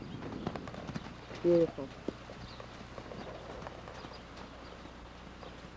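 An imported Friesian gelding, a driving horse, walks with clear clip-clopping hooves at close range, with a voice speaking briefly over the steady rhythm of the steps.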